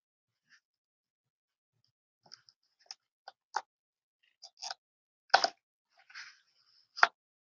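Small craft pieces pop out of silicone molds in a quiet room, a sparse series of soft, close plops and clicks that come one after another at irregular intervals.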